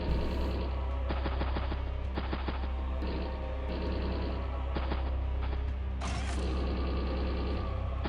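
Flare anti-air unit in Advance Wars: Days of Ruin firing at a recon bike, a burst of rapid gunfire bursts over constant game music, with a brighter mechanical flourish near the end.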